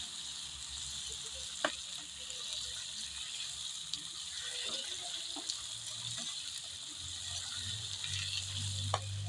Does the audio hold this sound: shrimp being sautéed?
yes